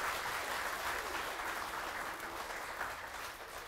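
A church congregation applauding in praise of the Lord during a worship service, a steady, dense wash of clapping that holds for the whole stretch at moderate loudness with no voices above it.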